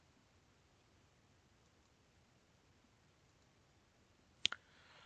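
A single crisp computer mouse click, with a quick second tick, cuts through near-silence during a coding tutorial. A faint hiss follows.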